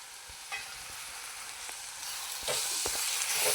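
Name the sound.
Kashmiri chili and garam masala frying in oil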